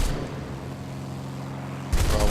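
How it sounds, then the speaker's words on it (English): Aircraft guns fire in a flight combat video game featuring a Spitfire: a dense, sustained loud burst of rapid fire runs throughout and briefly grows louder near the end. "I just ain't shooting straight."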